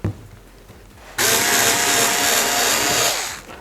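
An Intertool WT-0300 cordless screwdriver-type power tool cuts into a harder material, its steady high-pitched whine starting abruptly after a quiet moment and running loud and close for a couple of seconds before easing off.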